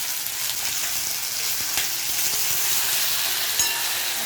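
Garlic and ginger fry in a hot pan for paneer masala, a steady, fairly loud broadband sizzle with faint crackles and a few sharp pops, heard alone without talk.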